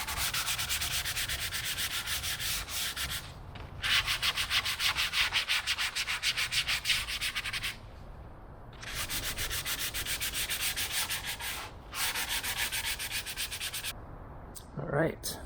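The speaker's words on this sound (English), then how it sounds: "you just have to come back with some sandpaper and just scuff up the areas that are going to get the epoxy" Sandpaper scuffing bare wood on an aircraft aileron before epoxy, loud close rasping strokes in fast back-and-forth bursts, several runs separated by short pauses, with no talk.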